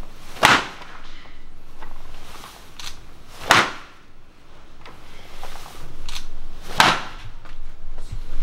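Three sharp, loud snapping cracks from an Okinawan Kobayashi-ryu karate punch, spaced about three seconds apart, each a crisp isolated impact over a quiet room.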